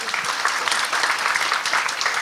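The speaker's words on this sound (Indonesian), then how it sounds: "Boleh tepuk tangan untuk Pak Prianto." Steady applause from a conference audience at a climate policy panel session, with many hands clapping at a sustained, even level and no talk over it.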